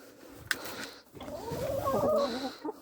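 A hen clucks softly up close in a short series of throaty notes, preceded by a brief sharp knock.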